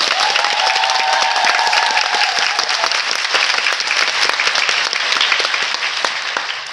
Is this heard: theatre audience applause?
yes